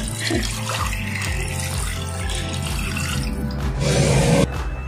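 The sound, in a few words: pouring 1 liter of water into a pot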